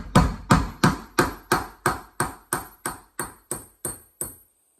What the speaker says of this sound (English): I've got a plastic tip hammer right here, and I'm just gonna give it some light hits. It's plastic on metal.